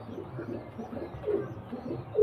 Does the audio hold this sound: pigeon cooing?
yes